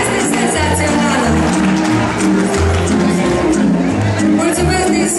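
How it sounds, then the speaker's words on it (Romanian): A crowd applauds and cheers for a singer at a live Romaniada 2016 event in Israel, a dense, loud wash of clapping and whoops with music still thumping underneath. "Aplauze pentru doamna, este senzațională!"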